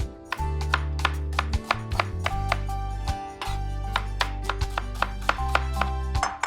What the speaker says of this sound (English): I'm going to slice 2 or 3 onions